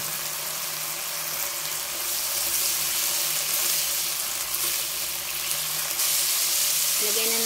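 Cooking oil sizzles and crackles steadily in a pan while banana blossoms are prepared, a close, continuous frying hiss that swells slightly near the end.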